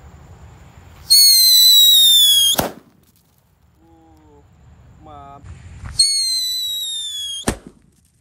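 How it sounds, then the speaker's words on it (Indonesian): Two loud shrill red Whistling King Thunder firecrackers, each a sustained high screech lasting over a second and ending in a sharp bang, with a quiet gap between them. "Lanjut kita nyalakan mercon Whistling King Thunder warna merah."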